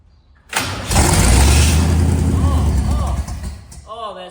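A rat rod car engine fires up after a brief crank and revs hard under throttle, loud and close, then eases off near the end.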